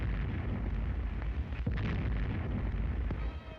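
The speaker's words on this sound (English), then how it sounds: "Off Shannon Island, the Nazi trawler is sighted and American guns cut loose." American naval guns fire on a Nazi trawler off Shannon Island, a dense, rumbling barrage of deep booms and sharp reports that continues for several seconds, heavy and distant.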